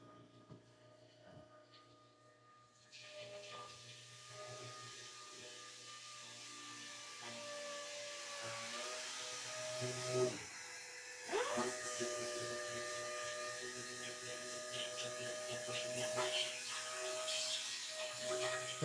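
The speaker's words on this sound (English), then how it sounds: "That's what you hear in the background there, is he's up continuing the sanding I was doing." A power sander whines steadily in the background of a boat build where composite chainplates are being made, a faint continuous drone that rises partway through and carries on with small changes in pitch.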